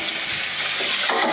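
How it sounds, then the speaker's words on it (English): Water rinses out a big, heavy cookware pot after a bleach cleaning, a steady broadband splashing rush running without pause and slightly brightening near the end, with no voices. "I'm going to rinse it out."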